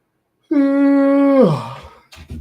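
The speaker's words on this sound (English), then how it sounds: "Yawning." A person gives a loud, drawn-out yawn with a sustained open-mouthed tone that drops and fades into a breathy exhale, followed by a brief rustle.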